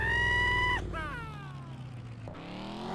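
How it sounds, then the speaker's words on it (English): A cartoonish scream with gliding pitch rises from a character in The Dukes of Hazzard: Return of the General Lee on Xbox, following a steady horn-like tone and running over a low engine rumble. "Oh, I can make him scream too."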